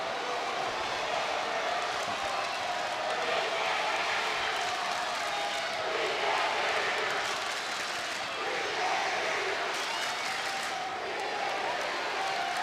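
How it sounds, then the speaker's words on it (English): A high school basketball crowd roars in a gym during Central Dauphin East versus Central Dauphin, a steady, dense wash of cheering and shouting filling the hall at a constant level throughout. "that's a nice crowd for Central Dauphin"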